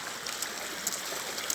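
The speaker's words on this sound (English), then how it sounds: "the water run like a river, people" Floodwater flows through a yard in Baileys Vale with a faint, continuous rushing and gurgling like a small stream, heard alone without speech.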